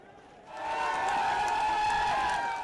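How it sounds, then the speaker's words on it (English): A crowd and rescuers at an earthquake rubble site in Nepal break into loud, sustained cheering and shouting that swells after a brief quieter start. "The rescuers and watching crowd jubilant."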